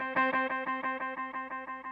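Boss RE-202 Space Echo tape delay running tape heads 1 and 3, a sustained guitar chord chopped into a steady, fast rhythmic pulse of repeats that slowly fade, alone and fairly loud.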